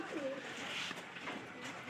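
Pigeons in a Bengali pigeon loft give low, rolling coos close by, with a soft continuous background hum over the short stretch.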